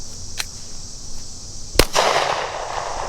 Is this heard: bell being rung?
no